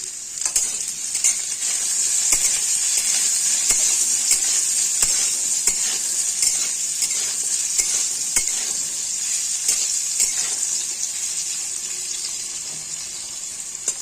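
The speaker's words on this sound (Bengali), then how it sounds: "আলুগুলো সুন্দর করে লাল লাল করে ভেজে নেব।" Potatoes frying in oil with salt and turmeric send up a loud, steady sizzle that lasts throughout, dotted with frequent small clicks and pops from stirring.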